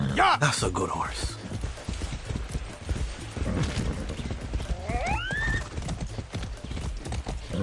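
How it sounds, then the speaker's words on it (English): A horse in the Far Cry video game gallops with steady, loud clip-clop hoofbeats and lets out rising whinnies, with game music and voices in the mix. "That's a good horse."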